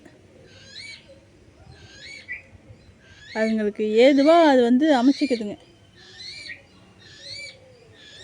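Babbler birds calling in a rural setting, repeated sharp, squeaky chirps in short bursts through the whole span, nearby, while someone speaks over the middle stretch.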